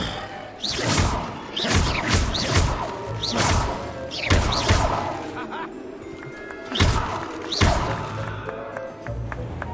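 Fire spells and other combat magic in a Hogwarts video game burst out as a run of loud whooshing blasts and crashing thuds, spaced irregularly and close up.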